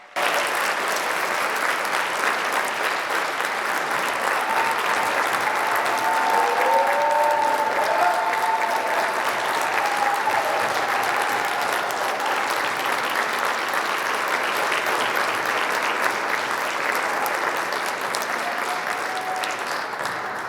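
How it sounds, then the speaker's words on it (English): An audience at a college athletics hall of fame induction ceremony in a hall gives sustained applause, a long, even wash of clapping from many hands with faint cheers and voices mixed in, steady for about twenty seconds. "Let's give all of them one more huge round of applause."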